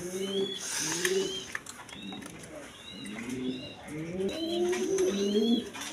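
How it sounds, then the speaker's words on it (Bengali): Domestic pigeons kept for sale coo in repeated soft, throaty phrases that come in bursts across the whole stretch, fairly close, with no talking over them. "এই দেখেন কোয়ালিটি সম্পন্ন কবুতর"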